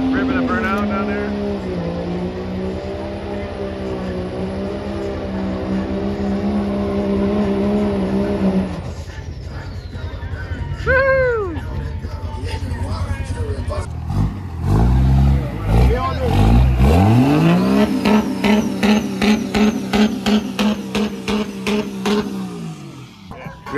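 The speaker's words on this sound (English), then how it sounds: "ripping a burnout down there" A car rips a burnout at Cleetus McFarland's Freedom Factory: a droning engine gives way to loud, rising revs and rapid pulsing roars, with people talking and cheering over it.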